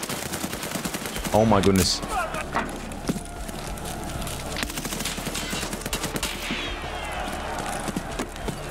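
Rapid gunfire bursts in the shooter game Escape From Tarkov Arena, repeated shots crackling throughout under excited gamer talk and in-game noise.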